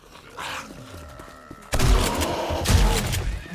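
Gunfire in 7 Days to Die, a quiet stretch with faint noises giving way to a sudden loud burst of rapid, clustered shots and impacts that continue to the end.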